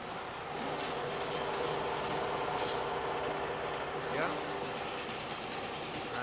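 A Freightliner Cascadia diesel truck engine idles steadily with a smooth, even rumble and faint rhythmic ticking; a person speaks briefly over it.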